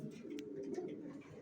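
Racing pigeons in a loft, with low rolling coos close by, steady and moderately loud, and a few faint chirps above.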